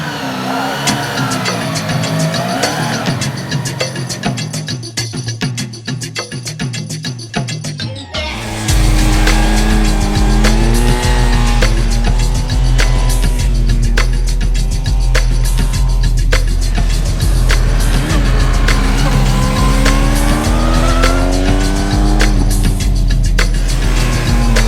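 A Honda RC45 motorcycle is ridden on the road, its engine loud and steady with revving rises and gear-shift dips through most of the stretch, after a quieter idling start.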